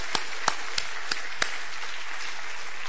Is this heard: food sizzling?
no